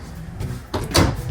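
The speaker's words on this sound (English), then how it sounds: "All soft closed doors." Soft-close cabinet doors in a 2026 Redwood RV travel trailer shut with muted wooden bumps and brief slides, two or three close, gentle closings in quick succession.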